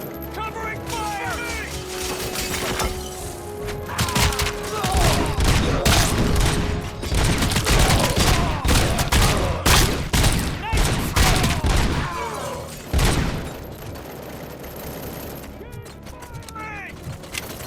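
Video game gunfire in Robocop Rogue City during a bank assault: sustained rapid bursts of shots and impacts over several seconds, loud and dense, mixed with shouted voices and a sharp blast near the end.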